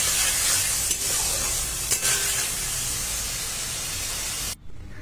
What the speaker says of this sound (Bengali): লবণ হলুদ গুঁড়ো দিয়ে আমি আলু বেগুনটাকে আবার কষিয়ে নিচ্ছি